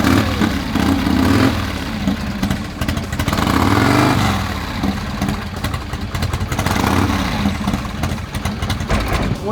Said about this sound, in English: When you heard that engine roar,